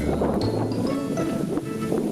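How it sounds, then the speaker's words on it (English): Strong wind buffets the microphone with a low, rumbling roar throughout, gusty and unbroken, with no voices. "This is a very windy day today."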